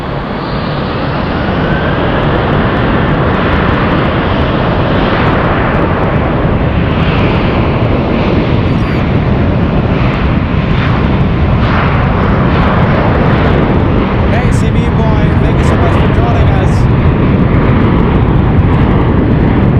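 An airliner powered by GE90 engines taxis at San Francisco airport, producing a loud, continuous, close jet roar that holds steady throughout.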